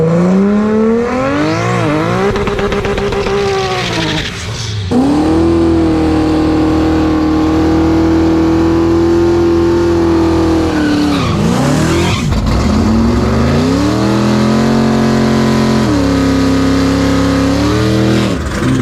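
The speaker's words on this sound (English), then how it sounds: "Nitrous Chevy 2 Nova versus Andrew and the Model S Plaid." A nitrous Chevy II Nova drag races a Tesla Model S Plaid, with a loud, close engine roaring and revving through rising and falling gear pulls, plus tire squeal and a brief break between runs.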